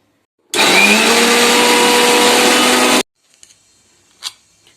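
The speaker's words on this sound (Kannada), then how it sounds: "ಮೆಣಸಿನ್ಕಾಯಿ ಮತ್ತು ಹಸಿ ಕೊಬ್ಬರಿಯನ್ನು ಈ ಥರ ಮಿಕ್ಸರಲ್ಲಿ ಸಣ್ಣ ಜಾರಲ್ಲಿ ತರಿ ತರಿಯಾಗಿದ್ದನ್ನು ರುಬ್ಬಿಕೊಂಡಿದ್ದೀನಿ" A kitchen mixer grinder with a small jar coarsely grinds green chilies and fresh coconut. It gives one loud, even whirring burst of about two and a half seconds that cuts off abruptly, followed by faint clicks of handling.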